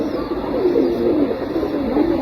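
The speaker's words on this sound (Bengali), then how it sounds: "আমি কবুতর এখন ছাড়ম নিয়ত করছি, এর মধ্যে তারা উঠে গেল দেখা যায়" Domestic pigeons coo with low, throaty murmurs that carry on steadily throughout, close by and fairly loud, with no wingbeats clearly standing out.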